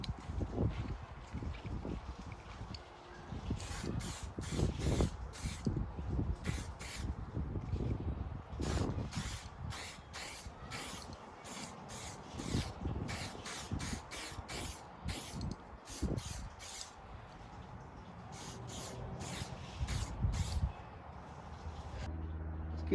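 Clear coat lacquer is sprayed onto a car body from an aerosol can in repeated short bursts, a steady hiss coming in pulses with brief gaps, close to the microphone, with some wind noise.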